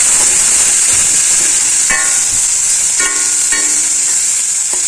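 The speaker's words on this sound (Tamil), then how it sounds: "இதிலே பார்த்தீங்கன்னா வெங்காயம், தக்காளி இதில் ஆட் பண்ணிக்கலாம். இது நல்லா வதங்கட்டும்." Onion and tomato sautéing in a hot pan give a steady bright sizzle and hiss, with a few soft clinks and stirring knocks, close and alone.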